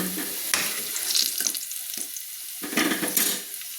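Potatoes fry in hot oil for an ol chingri dalna, giving a steady close crackling sizzle broken by a few sharper bursts, probably from stirring or lifting pieces out.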